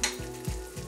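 Egg frying in a Visions skillet on an electric stove, a faint steady sizzle with a few soft scraping strokes, close and quiet, no voices.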